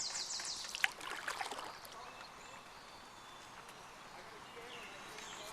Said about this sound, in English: You can hear the water moving against the paddle.